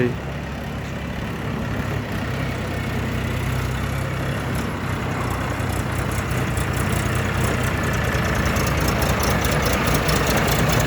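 A Shifeng SF-244CL mini tractor's three-cylinder 385 diesel engine runs steadily, a loud low chugging rumble close by that stays even throughout, with a faint voice underneath.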